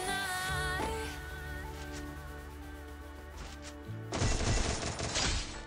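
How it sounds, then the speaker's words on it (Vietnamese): Gunfire in the Free Fire shooting game: a short burst of rapid shots crackles near the end, following a stretch of game music, fairly quiet overall. "Cầm cái súng này hơi khó bắn anh em."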